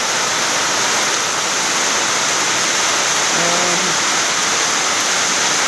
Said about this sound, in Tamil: கரெக்டாக நான் புறப்படும்போது மழை பெய்ய ஆரம்பிச்சிருச்சு.